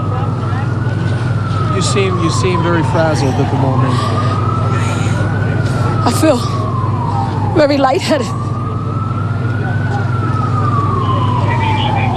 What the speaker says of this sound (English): You can hear the sirens in the background of those interviews.